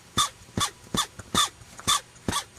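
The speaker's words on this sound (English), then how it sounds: "Hear that squeal when I turn it?" A Sony D-02 tape recorder motor with a squealing fault gives six short, evenly spaced squeals as it is turned, each a bright burst over a low background hum.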